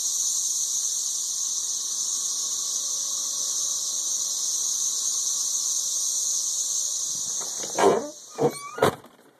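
A steady, loud high-pitched drone from a chorus of 13-year periodical cicadas in Nashville, Tennessee, runs unbroken for most of the span before a few sharp, nearby thumps and rustles break in near the end.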